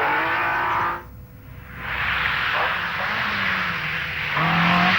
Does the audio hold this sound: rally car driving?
yes